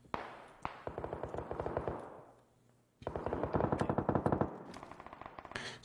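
Rapid bursts of automatic gunfire, two long rattling volleys separated by a short lull, followed by scattered single shots, loud and close.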